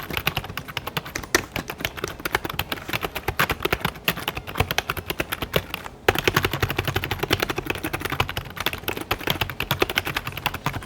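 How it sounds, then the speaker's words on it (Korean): Fast, continuous typing on a Wave Keys ergonomic keyboard with non-mechanical keys produces dense, close clacking keystrokes in an uneven rhythm with a brief pause midway and no talk. "일단 타건음 좀 들려드릴게요."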